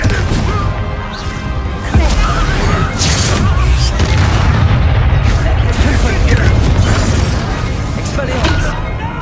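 Bombarda and Confringo spell explosions burst one after another in Hogwarts Legacy combat, loud, dense booming blasts and crashes sustained throughout with shouted spell incantations over them.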